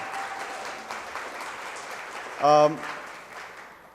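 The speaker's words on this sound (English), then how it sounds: "Can we give them a round of applause?" Church audience applauding the creative team during a service: steady, dense clapping fills the whole stretch at moderate level, with a brief bright tonal burst near the middle.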